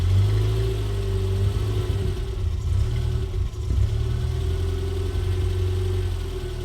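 A small 1990s Renault Twingo city car idling, heard from inside the cabin: a steady, low, fairly quiet engine hum with a constant drone and no talking.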